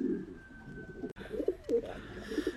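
Pigeons coo softly in breeding boxes, the low throaty calls repeating several times against a quiet indoor background, with a brief thump partway through.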